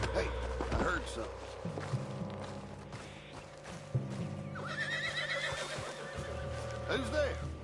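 A spooked horse in Red Dead Redemption 2 neighs and whinnies in the foreground, with clip-clop hoofbeats and other game sounds underneath and several loud peaks across the stretch.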